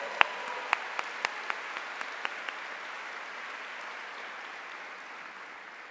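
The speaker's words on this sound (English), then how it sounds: "I think this deserves a round of applause" Applause from a law school commencement audience, a dense wash of clapping with a few sharp near claps early on, holding steady and slowly fading over several seconds.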